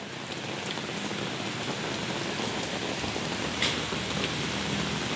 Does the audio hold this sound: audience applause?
no